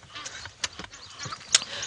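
Egyptian geese honk while flying in at dawn on a safari drive, a few scattered loud calls ringing out over open bush ambience, with one sharp call standing out near the end.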